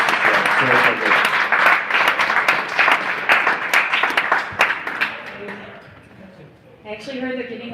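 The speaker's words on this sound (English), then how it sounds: "we can clap for her as she comes to share" A church congregation applauds as a woman named Becky comes up to share, dense clapping for several seconds that thins and fades, followed by a voice speaking at the end.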